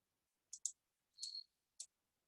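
A computer mouse clicks quietly during design work in CorelDraw, with a quick double click, a short pause, a slightly longer click, then a single one, all isolated against silence.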